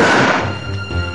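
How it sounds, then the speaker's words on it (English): A piece of foam fired from an air-powered cannon strikes the leading edge of a space shuttle wing in a loud, dense, broadband impact with a sustained rumbling wash. "a piece of foam is fired from an air-powered cannon at the leading edge of a"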